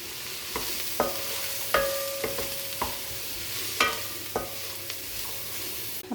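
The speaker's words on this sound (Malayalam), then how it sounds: "ഇത് നന്നായിട്ട് വഴറ്റിയെടുക്കാം." Beef being sautéed in a hot pan with salt, turmeric powder and curry leaves: a steady sizzle broken by sharp, irregular scrapes and clacks of a spoon stirring against the pan, close up with no talking.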